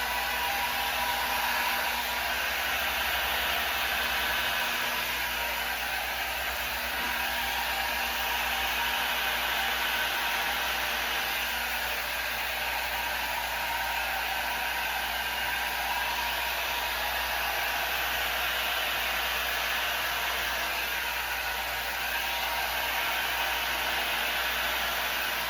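Steady, loud rushing air from a blower or heat gun, used to blow out a paint pour into a bloom on a 20x20 canvas, continuing evenly for the full stretch with no voice.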